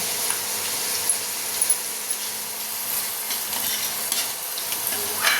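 Onion fries in a pan for a kokum fish dish, a steady close sizzle with light stirring scrapes and a few soft knocks.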